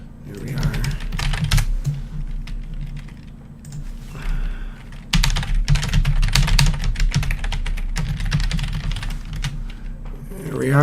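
Fast typing on a computer keyboard, a dense close run of clicky keystrokes with short pauses, and a voice speaking over it.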